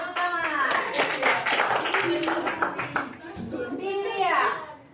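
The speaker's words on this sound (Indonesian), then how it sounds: "Tepuk tangan, tepuk tangan." A burst of hand clapping from a group in a classroom mixed with a lively adult voice and children's chatter, the claps quick and uneven.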